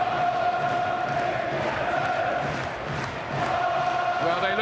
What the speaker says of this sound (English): The fans still trying to cheer him on.